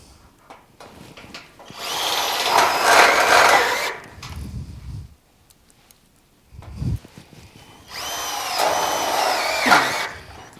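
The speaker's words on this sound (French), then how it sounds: "Et maintenant, il suffit de visser" A drill driving screws diagonally into wooden deck boards laid on a steel frame, two loud close bursts of whirring with quiet handling clunks between them.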